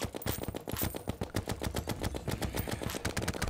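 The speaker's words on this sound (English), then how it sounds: "Love this gun. Who doesn't like the mini shark, man?" Minishark gun firing in Terraria, a rapid, even stream of sharp automatic shots that keeps up without pause, loud and close.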